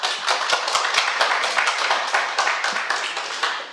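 Scattered applause at a full council meeting in Bury, a few people clapping steadily in a room at moderate distance, the claps uneven and overlapping for the whole stretch.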